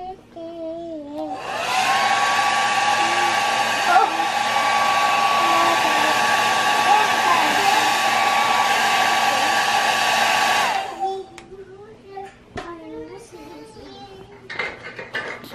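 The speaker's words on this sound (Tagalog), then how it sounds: "Dadanan ko pa na isang blower" A blower dries a bedsheet with a steady, loud broadband whoosh that starts about a second in and runs for roughly nine seconds before cutting off, leaving faint household sounds and a voice.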